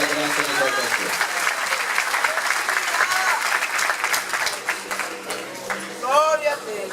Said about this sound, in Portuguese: Aplauda ele com mais força